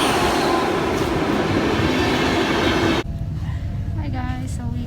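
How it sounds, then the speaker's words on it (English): A long-distance train arriving rumbles loudly nearby, then the noise drops suddenly as it slows, leaving a lower rolling hum with faint squeals. "our train is arriving soon"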